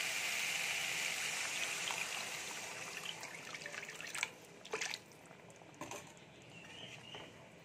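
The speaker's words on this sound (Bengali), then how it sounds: "এবারে জল দিয়ে দেব।" Water poured into a cooking pan of pointed gourd curry: a continuous close splashing trickle that fades, followed by a few brief clinks and drips.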